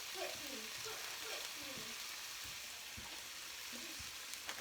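Onions, ginger and garlic go back into a pan with chicken and fry in a steady sizzle, with scrapes of stirring and a faint voice now and then under the frying.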